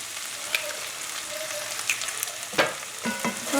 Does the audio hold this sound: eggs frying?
yes